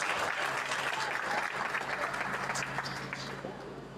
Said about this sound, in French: On applaudit les membres de la chorale du Seigneur.